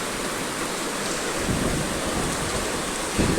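Steady, dense rain hisses without pause in Surat, with a few heavier gusts of wash rising partway through and no voices.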